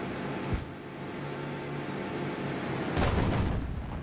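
Bombing explosions from Havoc aircraft in the WWII strategy game Theatre of War 2, set at the Kasserine Pass in Africa 1943: a sharp blast early on, then a louder broadband burst of explosions near the end over continuous battle rumble.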